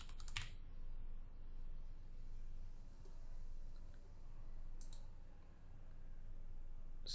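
Steady typing on a computer keyboard while entering a file name for a logo animation export, a continuous close patter of key clicks with a few sharper taps, no voices.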